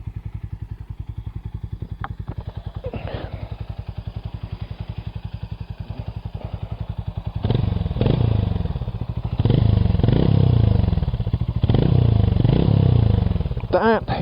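Hero Hunk 440 motorcycle with its standard exhaust idling in a steady low thump, then revving in several loud bursts, with people talking over it.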